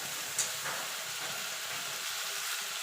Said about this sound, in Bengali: এবার মশলাটাকে কষিয়ে নেবো যতক্ষণ মশলা থেকে কাঁচা গন্ধ না চলে যাচ্ছে আর মশলা থেকে তেল না ছেড়ে আসছে